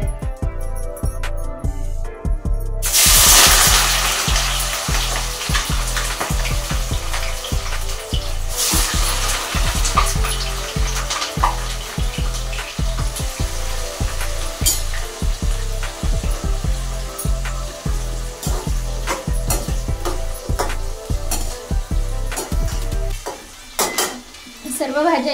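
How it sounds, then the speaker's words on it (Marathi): Mixed vegetables for a veg biryani sizzle loudly in hot oil, a dense, close crackle with repeated rhythmic stirring scrapes throughout, easing to quieter frying near the end. "आता सर्व भाज्या आपल्याला व्यवस्थित अशा तळून घ्यायच्या आहेत"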